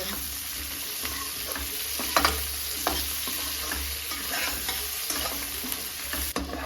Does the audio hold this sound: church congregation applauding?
no